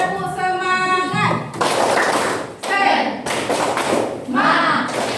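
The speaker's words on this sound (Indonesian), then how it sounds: "Kita tepuk semangat." Children in a classroom doing the tepuk semangat clapping chant, loud rhythmic claps and thumps in bursts, with sung and spoken voices between the claps.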